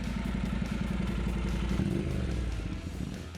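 A Honda NC750X DCT touring motorcycle engine runs close by with a steady, throbbing mid-pitched clatter, holding an even pulse before easing slightly toward the end.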